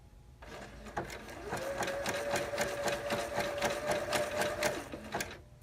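A sewing machine runs a zigzag stitch with stitch length set to zero, needle chattering in a fast, even rhythm over a steady motor whine, close and alone for several seconds before stopping.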